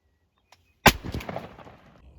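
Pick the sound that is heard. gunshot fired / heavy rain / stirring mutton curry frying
gunshot fired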